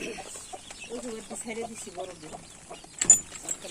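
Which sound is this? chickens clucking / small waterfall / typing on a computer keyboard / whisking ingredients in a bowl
chickens clucking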